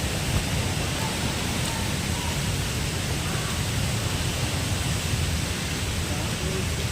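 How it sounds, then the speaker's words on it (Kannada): A waterfall near the Yedakumeri railway tunnel in the Western Ghats, heard as a continuous, even broadband roar of falling water that fills the whole scene without pauses. "ನೋಡ್ಬೋದು ಒಂದು ಫಾಲ್ಸ್ ಇದೆ, ಭಾಳ ಸಖತ್ತಾಗಿದೆ"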